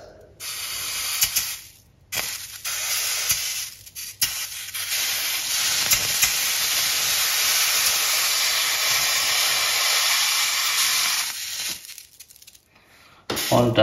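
Loud, steady sizzling hiss of water droplets skittering on a pan heated to about 260 °C, hovering by the Leidenfrost effect, broken by a few brief pauses.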